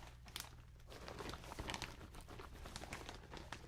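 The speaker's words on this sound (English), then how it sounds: "Yeah, I'll do some crinkling now." A crinkle bag being scrunched and rustled up close, giving a steady, dense stream of crisp plastic crackling that runs without a break, fairly quiet overall.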